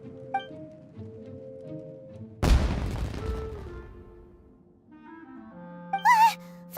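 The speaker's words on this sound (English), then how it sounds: "Was that an explosion? It sounded like fireworks." An explosion in the Genshin Impact video game bursts suddenly after quiet tones, then rumbles and crackles as it fades over a few seconds, followed by soft musical chimes.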